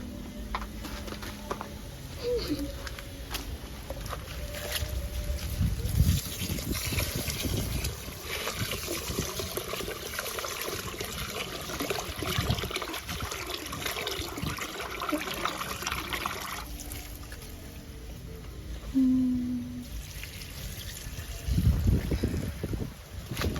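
Saltfish being rinsed by hand in a pot of water in a Jamaican home kitchen, with steady splashing and trickling running the whole time, loudest when the fish is moved and water sloshes.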